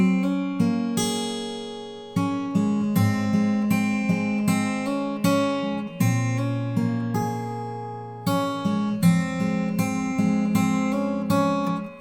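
Fingerstyle acoustic guitar picking the chorus of a song, with steady plucked bass notes under ringing melody strings, played solo and close with a brief pause near the two-second mark.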